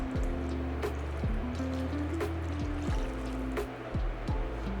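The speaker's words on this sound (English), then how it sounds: "Lastly, we're gonna add in our stock." Stock is poured into a pot over braised short ribs, a soft continuous trickle and fill of liquid, close and fairly quiet with no speech.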